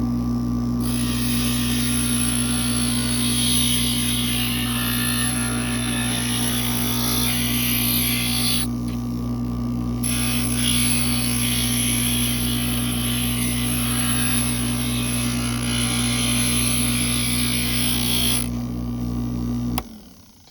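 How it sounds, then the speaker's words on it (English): A steady, loud mechanical whir and grind drones continuously while a small mini shark shape is ground out of glass in a glass shop. A strong low hum persists throughout, and the grinding cuts off abruptly at the end. "now it's time to do the loud grinding"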